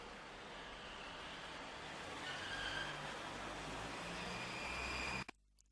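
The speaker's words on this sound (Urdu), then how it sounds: "ہمیں شہر میں جو سڑکوں پہ چلنے والی جو گاڑیاں ہوتی ہیں ان کا کتنا زیادہ شور محسوس ہوا" Steady city road traffic with passing cars forms a continuous broadband rumble that swells slightly midway, then cuts off abruptly near the end, leaving quiet.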